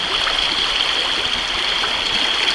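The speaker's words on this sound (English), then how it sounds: "So here we are on a lovely little trout stream." A small trout stream runs steadily nearby, a continuous close rushing and trickling of water with no voices over it.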